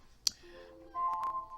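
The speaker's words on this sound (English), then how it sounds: "that's telling me that my timer's done" A timer alarm goes off: a sharp click, then a short run of bright electronic beeps that holds steady, fairly quiet and close.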